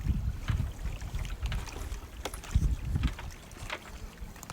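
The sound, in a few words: bamboo raft moving on a lake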